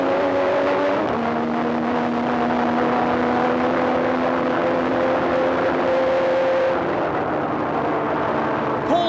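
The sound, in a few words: Formula 1 car onboard lap at Paul Ricard circuit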